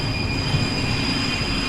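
A video-game train's brakes squeal in a steady, high metallic screech over a rumbling rolling-stock drone, continuous and close throughout with no talking.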